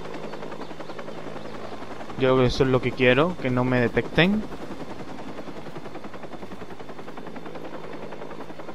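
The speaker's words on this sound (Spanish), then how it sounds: "Ah, toma por culo el helicóptero." A helicopter in the video game Watch Dogs, its constant rotor chop and engine whir filling the scene at steady volume while someone speaks over it for a couple of seconds.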